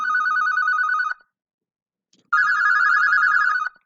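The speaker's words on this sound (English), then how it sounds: "Oh my God, it's ringing." Telephone ringing indoors: two loud, clear electronic ring bursts, each about a second long, separated by a short silent pause.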